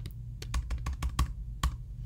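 A spreadsheet formula being typed on a computer keyboard, with a quick, uneven run of crisp key clicks close to the microphone, heard alone.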